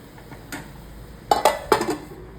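A metal lid set onto a cooking pot of matki bhaji: a light clink, then a cluster of three sharp, close metallic knocks and rattles in quick succession.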